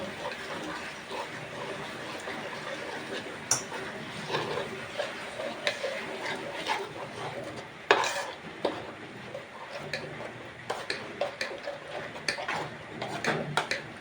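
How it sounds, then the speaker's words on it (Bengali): Gram flour batter is stirred with a little water for pumpkin flower fritters, a steady close scraping and sloshing with irregular ticks and taps of the spoon against the bowl, a few louder knocks standing out. "এখন আমি একটু জল দিয়ে বেসনটাকে ভালো করে মিশিয়ে নেব"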